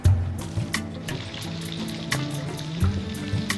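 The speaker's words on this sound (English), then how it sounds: "A thin vein of water pools here, then trickles into this hole." A thin stream of water trickles into a hole in a sleek contemporary garden fountain, a close, bubbling splash with irregular gurgles and drips, heard alone.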